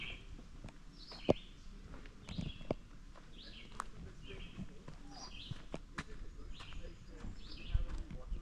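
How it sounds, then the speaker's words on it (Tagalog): Birds call and chirp in short, faint bursts around Silver Creek in Halton Hills, with occasional footsteps and rustling nearby and quiet ambient background. "Narinig nyo na mga huni ng ibon."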